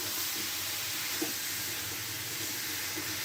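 Mutton fries in hot oil with a continuous soft hiss and faint crackle, steady and fairly quiet throughout.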